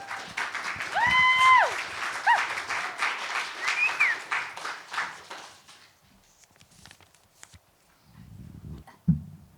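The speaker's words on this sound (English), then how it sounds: "please give a very, very warm round of applause for Athira" Applause and scattered cheering for a performer at a poetry and storytelling open mic, loud and crackling at first, with a few whoops over it. It fades out around the middle, leaving quiet room noise and a brief soft thump near the end.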